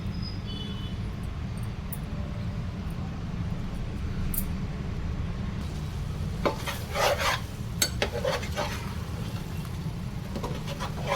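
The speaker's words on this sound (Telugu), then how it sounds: "దీన్ని ఆయిల్లో కొద్దిసేపు ఫ్రై చేద్దాం" Keema mince frying in oil in a pan for a keema mutti gravy curry, a steady close sizzle with scraping and stirring clinks of a utensil against the pan, alone without talk.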